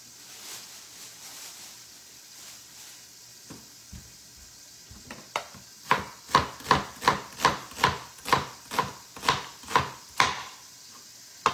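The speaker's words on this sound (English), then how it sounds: "There is really not much to do besides cutting my onion." Knife chopping an onion on a board while cooking a steak dinner, about a dozen crisp, evenly spaced chops in a steady rhythm after a few quieter cuts, close and distinct over faint kitchen background.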